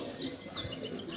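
Canaries chirp at a Border canary show, several short, bright tweets rising over a steady hum of background noise in an indoor show hall.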